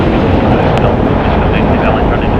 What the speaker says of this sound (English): It's an Airbus A321